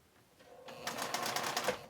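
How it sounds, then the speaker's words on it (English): A sewing machine runs in a short burst of a few rapid stitches while stitching a small zippered tote bag. Quiet at first, then a close, brisk patter of needle strokes for about a second. "you have to have somebody managing the sewing machine with their foot, with the accelerator, only going a few stitches at a time"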